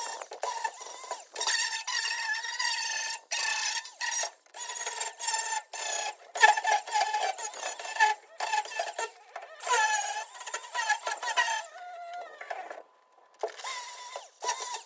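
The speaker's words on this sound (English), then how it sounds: "I decided to use the grinder and this sanding blade" An angle grinder fitted with a sanding blade works the metal of a 1971 Chevy C10 truck, a harsh rasping whine in repeated bursts separated by short pauses, close and loud.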